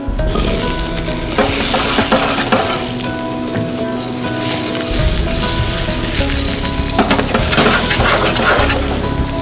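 Vegetables sizzle steadily and loudly in an oiled, generously salted frying pan, a dense continuous crackle with occasional stirring scrapes, no voices.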